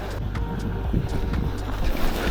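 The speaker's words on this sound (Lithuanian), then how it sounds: "Čia vėjukas šniokščia." Wind rushes steadily past a bicycle rider on a snowy road near a bridge at about -10 °C, a low buffeting roar that stays loud and close for the whole short stretch.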